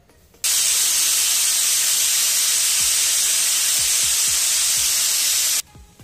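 A pressure cooker's whistle bursts into a loud, steady, high steam hiss lasting about five seconds, then cuts off abruptly, with a few soft low knocks underneath while spiced masale bhaat rice cooks.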